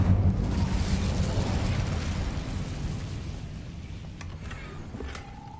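A burst of fire from an Incendio spell cast in a video game, a loud whooshing roar that starts strong and slowly fades over several seconds.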